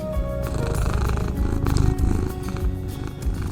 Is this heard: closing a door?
no